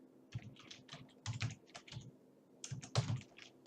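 Typing text on a computer keyboard: a quiet, close patter of key taps in two short runs with a brief pause between them, heard on its own.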